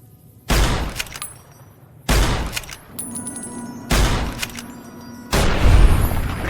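Gunfire in the video game Fallout: New Vegas, four heavy booming shots spaced about every one and a half seconds, each trailing off in a reverberant tail, loud and close.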